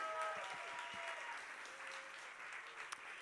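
A graduation ceremony audience gives a steady round of applause that sounds soft and somewhat distant. A faint voice briefly rises above the clapping near the start.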